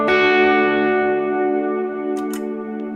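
An electric guitar chord rings through a Chroma Console pedal on its shallow water modulation setting, one sustained, rich, wavering tone decaying slowly and loudly, with faint string or pick noises near the end and no talk.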